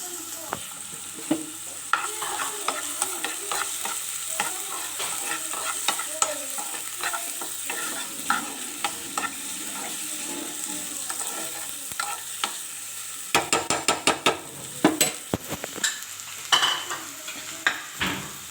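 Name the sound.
onion and chopped tomato frying and being stirred in a pan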